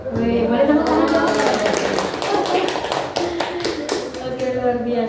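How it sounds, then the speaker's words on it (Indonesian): Scattered hand claps ring out from a small group at an Indonesian school program session, uneven and fairly close, with voices talking and cheering over them. "boleh tepuk tangan dong"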